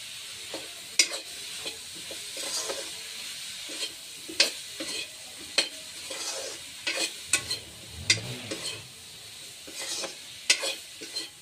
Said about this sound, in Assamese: ইয়াত মানে পানী দিলে আৰু এতিয়া মানে ভালদৰে হেতাৰে লাৰিবলৈ ধৰিছে।